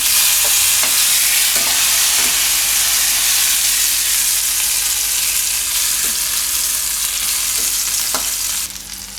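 Tomato slices sizzle in a hot pan, a loud continuous frying hiss with a few soft clinks of stirring scattered throughout.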